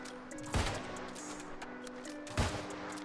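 Two sharp, loud gunshots from the video game New World, about two seconds apart, each a sudden booming crack that fades over a low in-game background hum.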